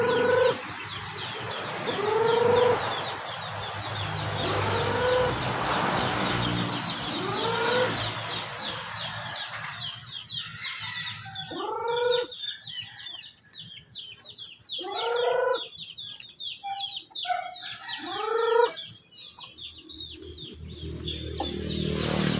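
Backyard chickens are fed, and a flock clucks and chatters continuously at close range. Sharp repeated calls and a few crowing notes rise over steady outdoor background noise, with no talk.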